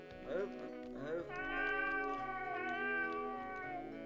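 A cat in a video game meows twice, a short call followed by a longer drawn-out, wavering meow, close and clear with no talking.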